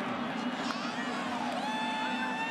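A football stadium crowd at a Michigan State at Wisconsin college game roars in protest after an incomplete pass, a broad sustained swell of distant voices with shouts rising over it.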